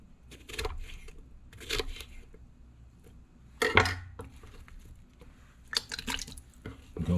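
Cut cucumber chunks drop into pickling liquid in a few separate soft splashes and wet plops, spaced out across a quiet kitchen background.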